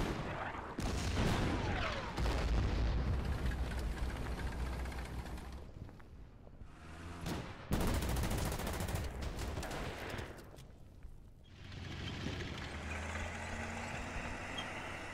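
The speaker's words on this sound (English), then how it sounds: "Look at that artillery." Heavy gunfire and booming blasts from a battle in the strategy game Order of Battle: Burma Road, dense and continuous with rumbling low bursts, a brief lull near the middle, then renewed firing.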